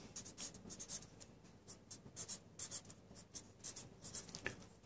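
Someone writing on a board, quick scratchy strokes in short irregular bursts, faint and close, with no talk.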